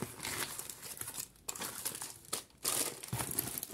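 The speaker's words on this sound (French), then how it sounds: "Donc là, on va le déballer ensemble." Plastic packaging crinkles and crackles close up as an unboxing parcel is opened, loud bursts of crumpling with two short pauses between them.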